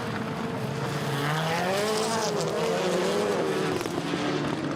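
Rallycross race cars run sideways around the velodrome section of the Tierp track, a loud engine drone climbing and falling in pitch as they power through the corner, with a trace of tire scrub.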